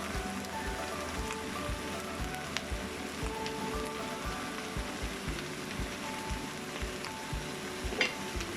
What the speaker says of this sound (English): Now I'm gonna add the vegetable cubes.